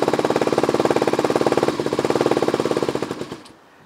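A Kawasaki KLX250SF motorcycle engine idles on choke with a fast, steady, loud thumping pulse close by, then cuts out and falls quiet near the end.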